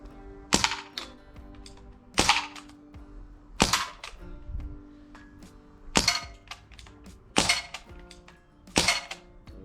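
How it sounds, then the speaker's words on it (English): Rifle shots ring out at night, six or seven sharp cracks spaced about every one to two seconds, each with a short metallic ring as rounds strike a steel target downrange, no talking between. "I think that hit it, it made a ding."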